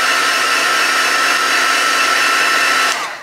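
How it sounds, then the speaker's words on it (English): A hair dryer blows steadily and loudly while drying a collage journal page, a continuous broadband whoosh with a faint hum that runs alone for about three seconds, then cuts off abruptly. "Okay, let's dry this a little bit."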